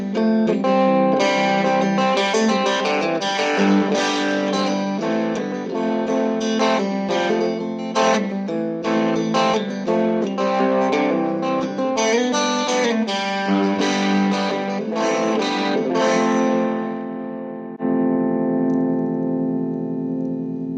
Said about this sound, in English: Back to the cleaner sound with a little reverb on it, just to kind of give you a feel for what that's like.